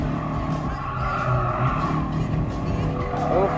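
Honda Beat kei car racing against a Copen in Gran Turismo Sport, a steady engine drone with tire squeal and skidding running throughout, close and fairly loud.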